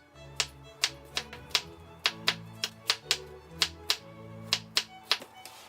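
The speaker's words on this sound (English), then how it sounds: "we'll start cutting up the tomatoes. You're gonna cut up the tomatoes into cubes" Kitchen knife chopping tomatoes into cubes on a cutting board, with sharp, quick, irregular knocks close by, about twenty strikes in steady bursts, no talking.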